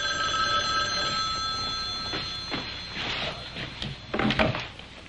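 A telephone rings in a home with steady electronic bell tones, followed by a few thuds and knocks of movement toward the end, fairly close and with no talk.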